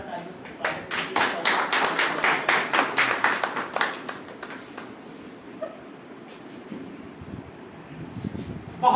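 An audience welcomes a speaker at a Hindi poetry gathering with a burst of rhythmic clapping that swells over the first four seconds, then thins into scattered claps and room noise.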